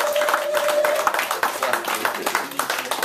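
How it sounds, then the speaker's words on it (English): A round of applause welcomes the speaker's wife Brenda at a health day gathering, with dense, lively clapping from a crowd running steadily throughout. "can we have a warm round of applause for the woman who is supporting me?"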